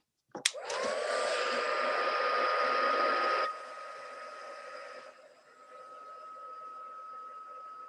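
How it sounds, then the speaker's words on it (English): A heat tool blasts hot air to set ink on a stamped card. It whirs up quickly to a loud steady roar, drops in level after a few seconds and keeps blowing more softly to the end. "I'm just going to heat set for a second."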